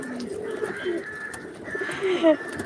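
Pigeons near their nesting spot give low, throaty coos in close succession, one bird loud and near, with no speech.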